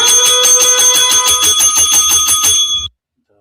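Bells ring in a rapid series of bright, metallic strikes for almost three seconds, then stop abruptly and leave silence.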